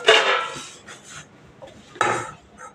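Dishes and steel utensils clatter and clink while being washed at home. Two louder bursts of banging metal are separated by quieter rubbing and knocks, close by, with no talking.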